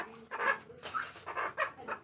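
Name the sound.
chicken clucking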